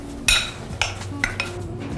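Sliced radish in olive oil gets stirred in a frying pan, giving four separate clinks and scrapes of utensil on pan over a faint low sizzle, with no talking.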